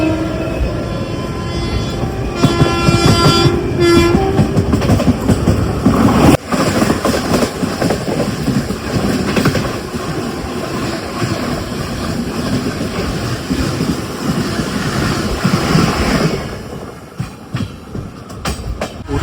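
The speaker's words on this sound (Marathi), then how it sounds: "चला सुटली एकदाची ट्रेन" A train rolls along with a steady rumble and rhythmic clatter of wheels on the rails, heard from on board, with brief squeaks and no voices.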